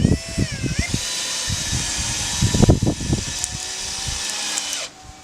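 A power drill drives screws into a wooden board, a steady close whirring with bursts of knocking as screws bite in, before the motor cuts off near the end.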